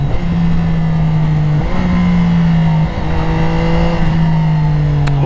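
A sport bike with a new exhaust drones loudly at close range, its engine note dipping and rising again a few times as it downshifts, running continuously without any talk.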